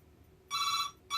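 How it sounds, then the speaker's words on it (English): A telephone rings in a scrap-metal workshop, a bright electronic trill burst followed by a pause and the start of the next ring, fairly loud over a quiet room. "And now the phone's ringing, so I'll be back when I've answered the phone."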